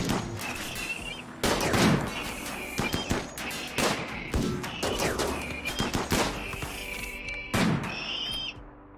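Rapid bursts of gunfire from a RimWorld colony firefight, with repeated volleys and sharp shots crackling one after another at close range, overlapping with no talking.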